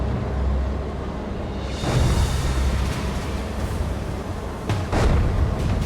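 Enemy artillery fire in a NATO-versus-invaders war game, a low rumbling barrage with several heavy booms and bursts over a constant roar, moderately loud and without any talk.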